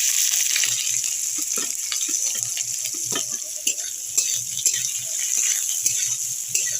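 Onion dropped into hot oil already holding dried red chillies and a little cumin, frying as a dish of drumstick leaves (sajne shak) begins; a steady close sizzle with small stirring rattles and spatters, no one talking.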